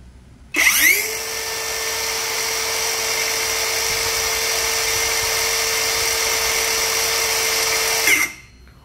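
Cordless brushless circular saw, DCA ADMY125, spinning up and running at its high 6000 RPM setting: a steady, loud whining motor tone that holds for about seven and a half seconds before cutting off abruptly, with no talk.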